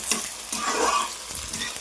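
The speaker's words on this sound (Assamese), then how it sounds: "আমি এতিয়া পিঁয়াজটো ভাজি আছোঁ।" Onions frying in oil for a village chicken gravy sizzle loudly while a utensil stirs and scrapes them in a few rhythmic strokes.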